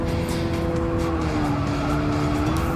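A race car in Gran Turismo 7 holds a loud, steady engine drone up close for a few seconds, with a faint edge of tire squeal and no voices.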